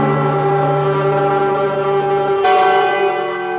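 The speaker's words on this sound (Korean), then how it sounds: "그리고 11번의 종이 울렸어." A deep, resonant bell tolls with long ringing overtones. The hum rolls on steadily, and a fresh strike lands partway through. The bell is loud and close, with no voices.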